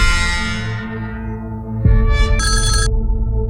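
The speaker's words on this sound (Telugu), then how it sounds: "ఆ toll gate owner Naveen Singh call చేశాడు." A mobile phone ringtone announcing an incoming call: a loud electronic melodic tone sustained for a few seconds, shifting pitch partway through, heard alone with no voices.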